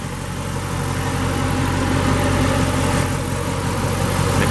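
A 2017 Dodge Challenger R/T T/A with a 5.7-liter Hemi V8 and cold air intake idles steadily nearby, a deep, even rumble holding at constant loudness with no revving.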